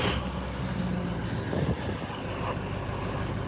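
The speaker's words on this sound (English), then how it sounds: "Not bad for the first start of the day." An old Ford truck engine runs at a steady, rumbling idle right after its first cold start of the day, close to the microphone with no talk over it.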